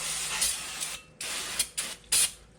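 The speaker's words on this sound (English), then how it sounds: "Alright, so use your brake clean." Brake cleaner sprayed onto the front brake rotor of a 1996–2011 Honda Civic EX, a series of close, sharp aerosol hisses in short bursts of varying length separated by brief pauses.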